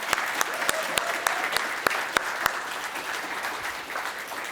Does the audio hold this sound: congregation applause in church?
yes